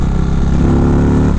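A 2019 Indian Chieftain motorcycle with its stock exhaust rumbles loud and close, a deep, beefy engine tone holding steady throughout with no voices over it.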